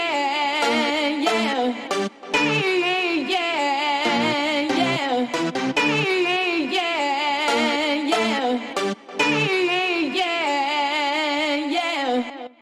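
A processed, pitch-shifted hardcore vocal line sings over a bright synth stab riff, loud and upfront, with brief gaps between phrases.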